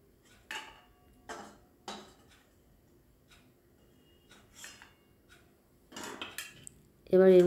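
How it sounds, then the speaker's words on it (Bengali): Fried raisins and nuts are scooped from a pan onto a plate, giving several short metallic clinks and scrapes of a utensil against cookware, spaced apart and fairly close, with a louder clatter at the end. "এগুলো ভাজা হয়ে গেছে। এবার আমি প্লেটে তুলে নিচ্ছি।"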